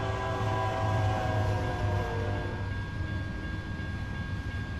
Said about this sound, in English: Freaking train, man.